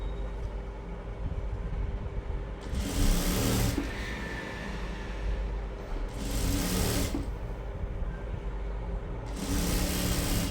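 A sewing machine hems the folded edge of a sleeve on a churidar-cut nightie, running in loud steady bursts of a few seconds between pauses, close and alone with no talking.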